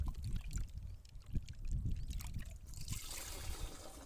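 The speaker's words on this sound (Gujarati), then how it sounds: "ને હવે પાણી ભરવાનું ચાલુ કરી દીધું છે" Water fills a farm pesticide sprayer tank with faint, low gurgling and sloshing, then shifts to a softer rushing hiss as the stream runs in.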